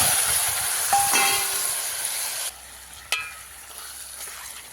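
Chicken pieces hit very hot oil in a pot with a loud, dense hiss that drops sharply to a quieter sizzle partway through, followed by a single metallic clatter.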